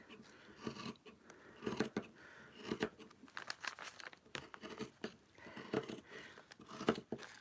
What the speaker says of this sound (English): cut all the way around.